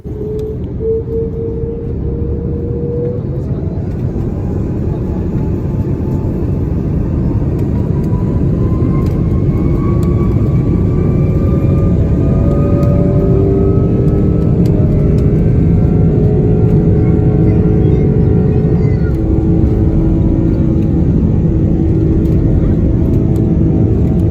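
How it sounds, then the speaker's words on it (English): Rolls-Royce Trent 700 jet engines on a wide-body airliner spool up in a steady, loud, continuous roar with rising whining tones, heard from inside the cabin throughout. "Don't you just love the sound of those Trent 700s spooling up?"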